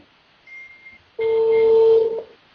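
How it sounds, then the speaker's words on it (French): A telephone rings during a talk about sura 33:21. A short faint tone comes first, then a loud sustained electronic ring tone that cuts off after about a second. "Il y a un téléphone qui sonne là."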